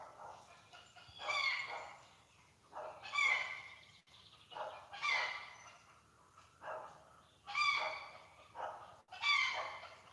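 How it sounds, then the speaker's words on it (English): A dog barks repeatedly in spaced bursts at a moderate distance, with a quiet outdoor background and no talking. "Luna's over there barking. My neighbor's dog."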